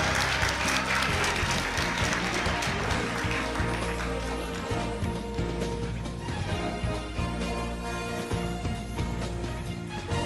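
Studio audience at a Jeopardy-style quiz show challenge giving sustained, loud applause for a participant, dense clapping that fills the whole stretch without pause.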